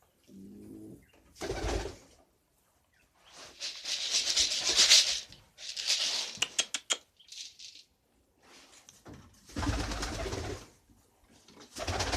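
A male pigeon coos to a female in repeated throaty, rolling bursts, fairly close and separated by short quiet gaps, with some wing rustling in between.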